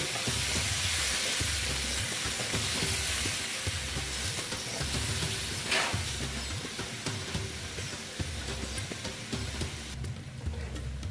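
Pumpkin curry with spices and a splash of water hisses and sizzles continuously in a pan while being stirred, a steady close frying sound without speech.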